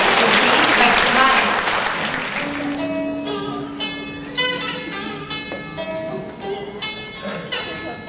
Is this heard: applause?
yes